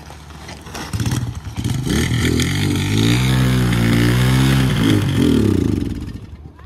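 A 1984 Honda ATC200X barn-find three-wheeler engine catches and keeps running, a loud steady near idle with rising and falling revs and mechanical clatter throughout.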